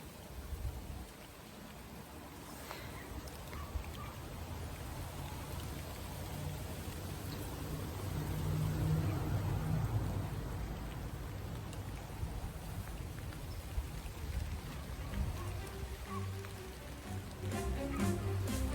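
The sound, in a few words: rain starting to fall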